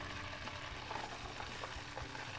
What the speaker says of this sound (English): we're going to let those cook up in the oil